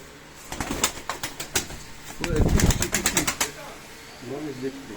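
Pigeons coo and rustle close by, with bursts of wing flapping and scratching; someone talks briefly amid the birds.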